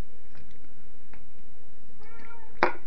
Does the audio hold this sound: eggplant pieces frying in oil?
no